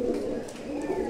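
Pigeons in a loft give a soft, low cooing that runs steadily throughout at moderate, close range.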